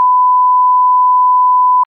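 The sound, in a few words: quiz buzzer beep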